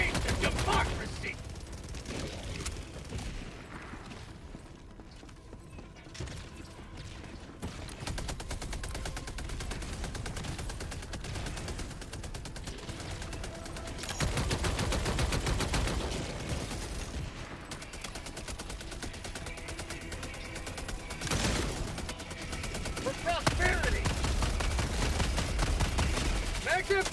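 Sustained automatic sentry turret gunfire in the Helldivers 2 video game, a dense continuous rattle of rapid shots with louder bursts near the middle and end, plus other battle noise, over a long stretch.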